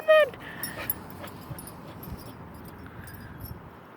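A dachshund puppy on a beach gives a sharp high yip, then keeps up faint whimpers and small cries against soft background noise.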